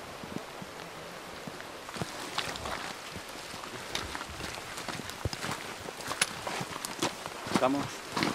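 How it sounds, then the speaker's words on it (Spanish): Footsteps squelch through mud along a rainy boar-hunting trail in Turkey, irregular close steps with rustling over a light rain hiss, growing busier toward the end. "La lluvia y nuestro paso es lo único que rompe el silencio de esta mañana de prospección en Turquía."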